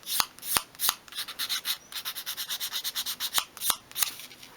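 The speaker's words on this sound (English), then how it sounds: "use your fine grade sandpaper just to bevel over each edge" Fine grade sandpaper rubs at an angle along the edge of a small wooden piece for a 1/12 scale miniature garden shed, producing a quick run of about twenty short rhythmic rasping strokes between a few sharper taps, close and clear.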